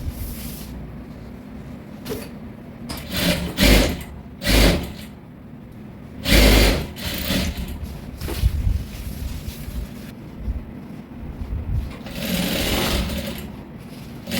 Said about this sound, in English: Then I'm going to sew.